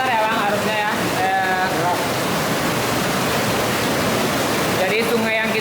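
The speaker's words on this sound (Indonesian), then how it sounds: "Jadi sungai yang kita lihat di bawah tadi asalnya semua dari sini." River water rushes steadily inside a cave, making a loud, continuous broadband roar, with voices talking over it at the start and again near the end.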